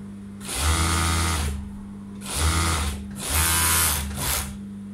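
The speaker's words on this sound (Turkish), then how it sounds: "Overlock'ta dikimimizi yapıyoruz." Overlock sewing machine stitching a pair of wide-leg trousers, running in three short loud bursts of fast whirring stitching separated by brief pauses, with a steady motor hum underneath.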